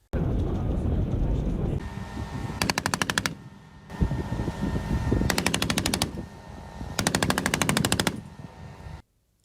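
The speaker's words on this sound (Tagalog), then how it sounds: "Sunod-sunod na putok ng missile ang pinakawala ng MADIS o Marine Air Defense Integrated System" MADIS Marine Air Defense Integrated System missiles launch in rapid bursts during Balikatan military exercises, three long rattling volleys over a constant roaring rumble, loud and close, with a voice speaking between them.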